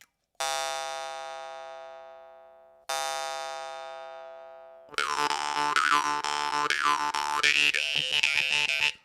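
Two long twangy resonant plucks of a temir komuz jaw harp ringing out and decaying, then a buzzing, wavering drone with shifting vowel-like tones, loud and close.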